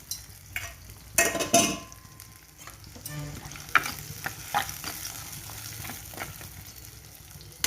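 Onions sauté with salt in a pan for a country carp curry, a continuous close sizzle broken by scraping spatula strokes and occasional clinks.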